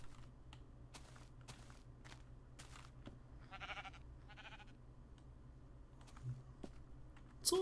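A sheep bleats twice in quick succession in a modded video game, over steady, soft computer keyboard clicks and a faint low hum.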